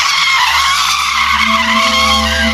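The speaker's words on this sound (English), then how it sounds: "a sharp screech pierced the air" A sharp, sustained screech rings out, loud and harsh like tires skidding or metal grinding, holding steady without a break and with no voices.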